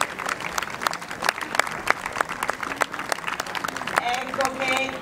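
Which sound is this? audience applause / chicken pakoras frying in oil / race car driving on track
audience applause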